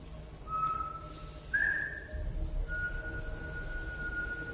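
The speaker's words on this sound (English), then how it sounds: "That's all he does is whistle." A man whistles a few sustained, steady tones, one of them held for a longer stretch, over a low background rumble in a movie scene.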